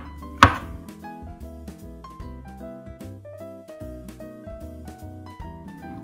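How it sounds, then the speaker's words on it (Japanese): A knife thinly slices shiitake mushrooms on a cutting board, making a steady run of soft, close chopping taps. Gentle background music plays throughout, and there is no talk. "椎茸はこんな感じの薄切りにねしていってください"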